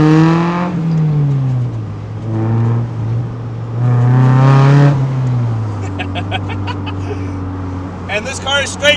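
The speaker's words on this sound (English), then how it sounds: "this car is straight piped" Loud exhaust from a straight-piped 1999 Mazda Miata NB with two tiny mufflers, droning low and rising in pitch through several revs, heard up close alongside someone talking over it.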